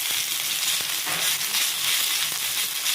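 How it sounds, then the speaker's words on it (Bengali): Puti fish (pool barb) fry in a pan with a constant bright sizzle and crackle, with occasional soft stirring or scraping clicks, close up and with no talk. "যখন পুঁটি মাছ ভাজি হচ্ছে এখানে"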